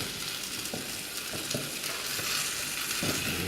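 Kerala-style fish, meen pollichathu, sizzling as it grills in a pan, a steady close frying hiss with a few soft scrapes and taps from handling, no talking.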